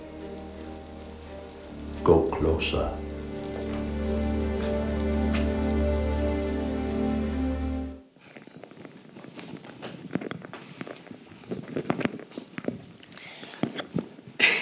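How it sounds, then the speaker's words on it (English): Heavy rain drums on a large metal drum, a dense steady patter for about eight seconds, then cuts to sparser, irregular drips and taps. A voice speaks briefly near the end. "You are listening to the noise of rain beating against a large metal drum."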